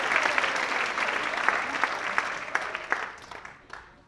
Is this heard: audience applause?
yes